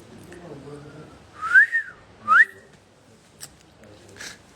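A person whistles two short, rising notes close by in a casual, wolf-whistle style. Brief speech comes before the whistles, and a few faint sounds follow.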